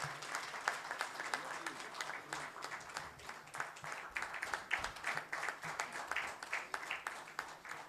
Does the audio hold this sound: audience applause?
yes